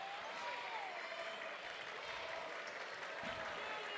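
A high school girls' basketball cheer block in a gym cheering and chanting, a sustained crowd roar with clapping that stays at a constant level the whole time, heard from a distance.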